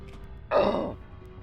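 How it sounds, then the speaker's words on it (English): A single short burp after drinking sparkling water, a brief squeaky eructation lasting about half a second, close and fairly loud against a quiet background. "That's my burps."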